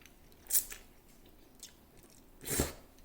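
Chewing on Thai drunken noodles (pad kee mao) right at the mouth, with two soft, wet bites or chews a couple of seconds apart and quiet stillness between them.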